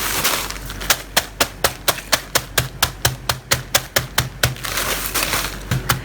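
Biscuits crushed inside a zip-lock bag for a no-bake durian cheese pie base, struck in a fast, regular series of sharp, loud thumps with a crunchy crackle between blows, close up and with no talking.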